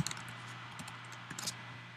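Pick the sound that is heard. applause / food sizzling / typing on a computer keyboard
typing on a computer keyboard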